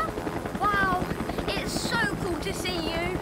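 A cartoon helicopter's rotor thrum in the animated series Thomas & Friends: All Engines Go drones steadily beneath excited voices talking over it.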